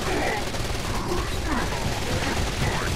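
Enemy gunfire in the video game Saints Row: Gat out of Hell: a dense, continuous barrage of rapid shots and bursts, loud and close, with a player's voice talking underneath.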